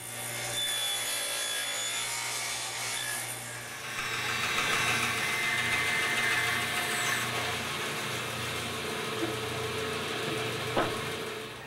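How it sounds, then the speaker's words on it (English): Power saws in a workshop cut notches in the ends of wooden side supports for an Arts and Crafts panel bed: a steady droning whine with a rougher grinding stretch in the middle and a small knock near the end, no voices. "I'll create that notch using the table saw for the first cut and the bandsaw for the second cut"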